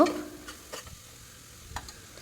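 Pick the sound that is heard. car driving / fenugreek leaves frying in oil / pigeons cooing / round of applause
fenugreek leaves frying in oil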